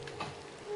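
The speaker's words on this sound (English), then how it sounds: "it's just raining" Steady Minecraft rain patters softly in the game world, a faint continuous hiss of falling drops with no talk over it.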